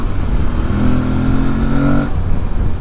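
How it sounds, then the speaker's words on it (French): A mid-size motorcycle engine held steadily at high revs above 4000 rpm, a loud continuous drone that drops away near the end. "quand on est dans la bonne plage d'utilisation, c'est-à-dire au-dessus de 4000 tours, ce moteur, il a quand même une bonne pêche"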